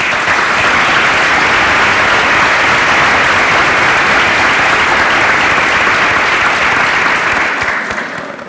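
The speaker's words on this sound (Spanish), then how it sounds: "Lo primero que quiero hacer es aplaudirlos a ustedes." An audience at an education event bursts into sustained, dense applause. The clapping holds loud and steady for about eight seconds, then begins to taper off at the end.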